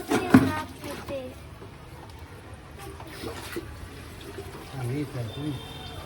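Water from a hose runs and trickles steadily into a tub, fairly faint, with people talking nearby and a brief louder clatter at the start.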